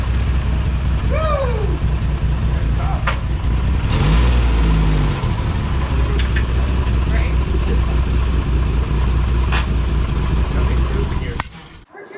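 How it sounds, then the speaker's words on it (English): A Toyota FJ60 truck out on its first drive after a build, its engine running loud and close with a steady rumble and some revving, while people talk and cheer excitedly over it before it cuts off near the end. "Driving! Yay! Driving, Rachel!"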